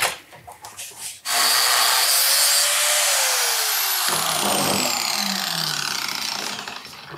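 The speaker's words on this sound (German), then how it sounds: "Wir können ihn mit einer Messingbürste abbürsten." A metal part from a 125cc Moto Morini Corsaro motorcycle being scrubbed with a brass wire brush, a dense, steady, loud scratching hiss that starts abruptly after a quiet second and continues without a break.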